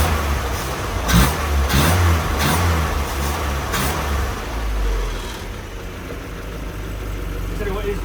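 A car engine, started for the first time after a rebuild, revs in a series of short throttle blips over a rough idle, close by and loud, with people talking over it.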